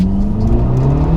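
A 250 bhp Abarth 500 pulls hard in second gear, its engine roaring loud and close with a steadily rising pitch throughout, with no voices over it.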